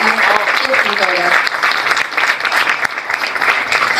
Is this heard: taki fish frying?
no